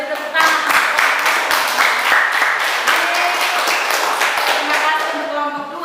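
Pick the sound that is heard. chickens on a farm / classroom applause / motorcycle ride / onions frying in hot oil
classroom applause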